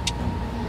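A car engine runs at a steady idle, close and moderately loud, a continuous low hum with no talking.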